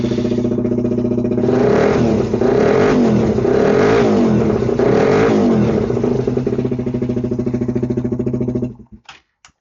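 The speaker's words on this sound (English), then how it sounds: "I'll start the bike up." A motorcycle engine cranks and catches, then runs loud and close with a few throttle blips rising and falling before settling to a steady idle and cutting off near the end, with no voices.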